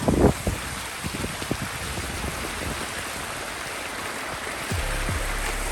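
Steady wind and water rush aboard a sailboat making 10 knots on a solo circumnavigation of Vancouver Island, a broad constant roar with a few knocks and thumps early on and a low rumble swelling near the end.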